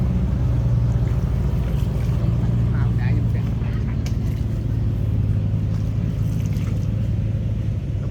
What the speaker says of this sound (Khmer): ជីទូកនៅកំពង់ភ្លុក